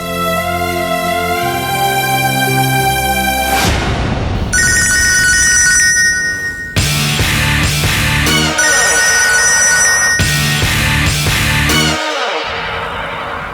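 A telephone rings after a call is placed, a loud electronic ringtone in repeated bursts with short gaps, changing pattern partway through, with no talking.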